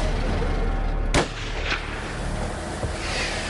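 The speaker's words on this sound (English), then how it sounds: "What's that? A gunshot." A single sharp gunshot from police marksmen destroying a loose bull on a roadside cracks out loud and close, then a fainter second report follows over steady background rumble.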